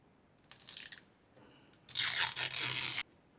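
Stripe material peels off a guitar body in two close, crackly tearing pulls, a short one followed by a longer, louder rip after a brief pause.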